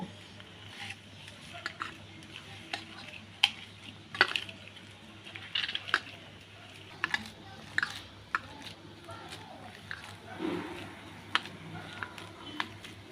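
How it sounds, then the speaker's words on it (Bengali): Boiled green bananas are mashed by hand with onion and green chilli, giving soft, wet squishing and sticky patting sounds in irregular bursts at low volume, with a faint steady hum underneath. "পেঁয়াজ আর কাঁচা লঙ্কা আর কলাটা দিয়ে আমি খুব ভালো করে মেখে নেবো"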